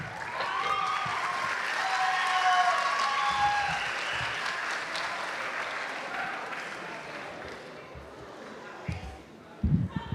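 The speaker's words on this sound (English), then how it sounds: "Let's give the participants and their faculty advisors one final round of applause" Applause from the audience at a student debate event swells, holds, then slowly fades over several seconds, moderately distant, with a few louder thumps near the end.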